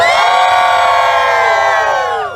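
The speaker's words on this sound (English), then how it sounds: "on three, I need a big cheer" A big crowd at an NHRA Funny Car victory celebration at the Lucas Oil Winternationals lets out one loud, sustained cheer with whoops and shouts, held steady before fading slightly at the end.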